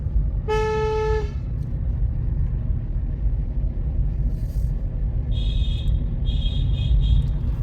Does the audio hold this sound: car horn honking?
yes